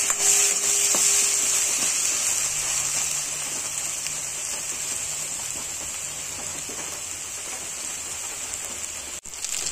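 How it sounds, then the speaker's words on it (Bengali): A paste of coconut, mustard and chilli frying in oil in a pan, making a steady loud sizzling hiss throughout, with faint clinks from utensils and no speech. "এবার এগুলো হালকা ভাজা ভাজা হবে"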